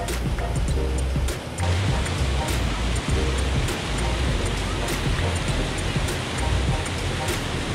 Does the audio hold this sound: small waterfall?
yes